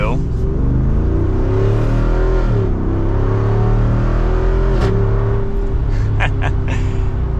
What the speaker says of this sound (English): You gotta love a Hemi V8 in a Wrangler.